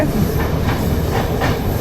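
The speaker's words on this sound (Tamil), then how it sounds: "யாழ்ப்பாணத்துலேருந்து ட்ரெயின் வந்து வலிக்கிட்டுது" A train arriving from Jaffna rumbles close and loud, with a rhythmic wheel clatter repeating through the steady roar and no voices.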